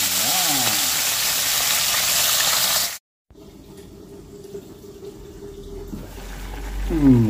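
Fried fish set into a hot wok (kawali) for cooking with vegetables and sweet potato tops, giving a loud broad sizzle that cuts off abruptly, then returns as a quieter steady frying hiss with some clattering.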